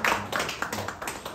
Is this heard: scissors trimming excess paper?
no